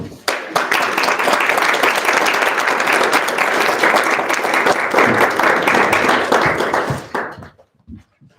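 An audience gives sustained, loud applause after a senior thesis presentation; dense clapping runs for about seven seconds, then tapers off and stops.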